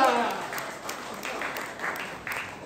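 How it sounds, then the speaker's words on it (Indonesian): A church congregation claps in a loose, uneven rhythm during a sermon, the claps moderately close and spaced out, following a voice speaking at the start. "Tepuk tangan, iya."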